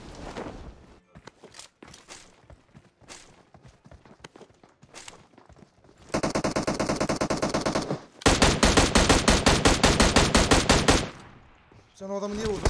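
Gunfire in PUBG Mobile: scattered single shots and footsteps early on, then two long rapid automatic bursts, loud and close, followed by a brief clatter, with no talking.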